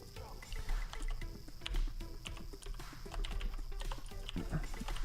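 Rapid clicking of computer keyboard keys during a SwiftUI coding session, dense and continuous with irregular bursts, close and moderately loud.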